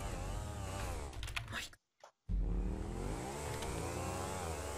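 A car engine in GTA 5 Online on PC roars and revs steadily, loud and close, cuts out for about half a second, then comes back at full throttle.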